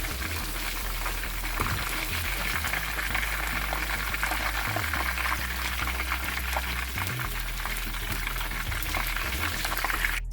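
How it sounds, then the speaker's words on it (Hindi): Chicken fries in hot oil until light brown, a loud, continuous close sizzle and bubbling that holds steady throughout with a low rumble beneath. "अब इसको मैं हल्का ब्राउन में इसको फ्राई कर लूँगी"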